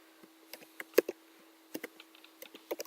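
Someone types on a computer keyboard nearby, with quick, irregular key clicks and a few louder taps in a quiet room.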